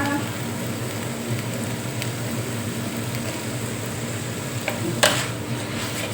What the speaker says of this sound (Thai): นี่เขาย่างสุกมาแล้วปลาเปี๊ยกนี่ผัดไป